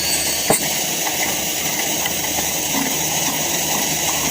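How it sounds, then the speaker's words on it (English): A pumped gasoline camp stove burns with a steady, broad roaring hiss that holds even throughout, with one brief knock near the start. "Fired up the stove here. And I think we're gonna pump it up one more time."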